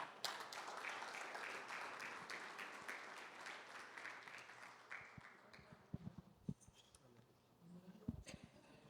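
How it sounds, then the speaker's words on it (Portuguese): A church congregation at a Sunday Bible study applauds faintly, a dense patter of many hands that thins out and fades into scattered small noises toward the end. "Vocês aplaudiram por causa do horário, que é cedo?"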